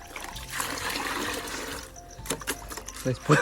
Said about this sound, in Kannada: ಇದರಲ್ಲಿ ಸೆಗಣಿನ ಮಿಕ್ಸ್ ಮಾಡ್ಕೊಂಡು ಹಾಕು, ನೀರು ಹಾಕು, ಮಿಕ್ಸ್ ಮಾಡ್ಕೊಂಡು ಹೋಗ್ತೀವಿ